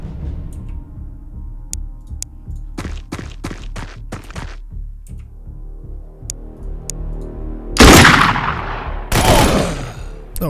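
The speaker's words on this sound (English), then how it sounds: "Shotgun point blank and he just eats it." Shotgun and other gunfire in Xenonauts 2, a turn-based tactical combat game: a quick series of sharp single shots, then two loud heavy blasts near the end, over a low hum.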